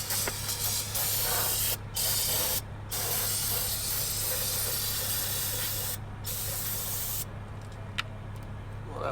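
Cleaner is sprayed in several short hissing bursts from a spray bottle, with brief pauses between squirts against a steady background hum, close by.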